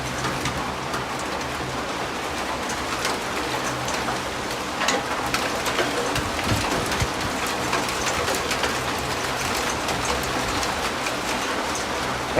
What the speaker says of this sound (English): Hail. Hail.